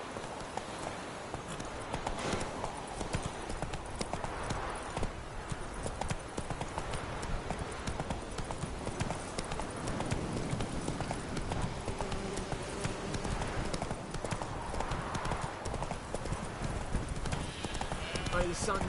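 Roach the horse clip-clops along a road in a video game, a continuous rhythm of hoof beats throughout, with voices talking over the hooves.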